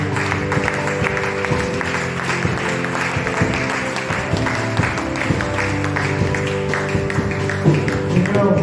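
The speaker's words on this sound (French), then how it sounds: "On acclame le Seigneur." Church congregation claps and cheers in praise during a worship service, a steady wash of applause and voices with music underneath, filling the room throughout.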